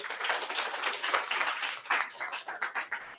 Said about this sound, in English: Again, applause, big applause here.